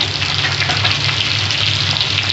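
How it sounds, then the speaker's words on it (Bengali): Potato pieces frying in hot oil in a pan with salt and turmeric: a steady, loud, close sizzle throughout with no pauses and no talk. "আলুগুলো একটু লাল লাল করে ভেজে নেবো আমি লবণ হলুদ দিয়ে"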